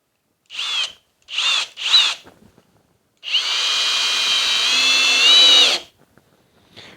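Kobalt 24V drill driving Torx screws, with three short whirring bursts followed by one long sustained run of about two and a half seconds, close and loud in an otherwise quiet space.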